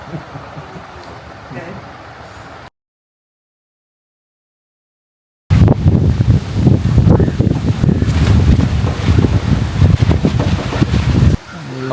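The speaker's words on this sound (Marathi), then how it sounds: "वादळी वारा सुटलेला" Stormy wind blowing in coastal Konkan, a loud buffeting rumble on the microphone, broken by a silent gap and then stronger, continuous gusts.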